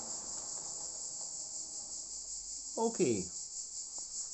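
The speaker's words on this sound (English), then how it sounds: "The cicadas are going their dinger again." Cicadas buzz in a continuous, steady high drone on a hot day outdoors beside a model railway, with a brief spoken word cutting through near the end.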